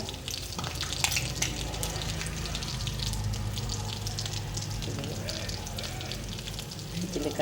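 Cumin seeds frying in hot oil alongside chopped green chillies, a continuous crackling sizzle with stirring scrapes, steady and close throughout.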